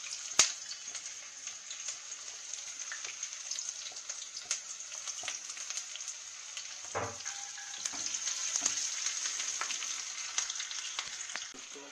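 Oil sizzling in a pan for chicken curry: a steady bright frying hiss with scattered crackles and pops, a sharp clatter right at the start, and a brief lower stir or splash partway through.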